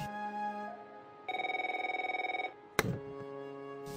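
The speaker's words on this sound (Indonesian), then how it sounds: "Telepon itu terus saja berdering." A telephone rings indoors in an office: a tonal electronic trill in one sustained warbling burst of about a second, with a sharp click and further ringing tones following.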